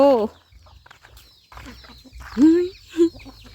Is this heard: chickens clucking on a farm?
yes